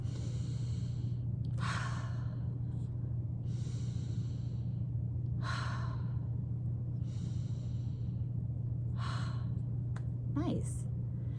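Three slow, deep breaths, each a soft airy inhale and exhale spaced a couple of seconds apart, close and gentle over a steady low hum, ending with a brief higher squeak.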